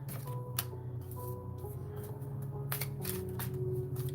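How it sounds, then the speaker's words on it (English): Tarot cards are shuffled by hand close by, giving bursts of soft riffling and papery snaps over a low steady background hum, with no talking. "I'm like shuffling, but I'm trying not to chop the cards down."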